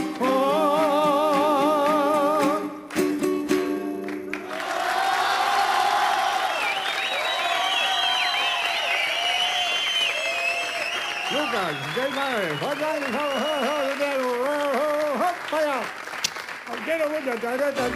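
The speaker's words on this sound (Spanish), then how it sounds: "fuerte el aplauso para Don Hugo Varela" Loud audience applause and cheering for comedian Hugo Varela on a Chilean comedy show, opening with music that gives way to a sustained clapping crowd, with a voice speaking over it throughout.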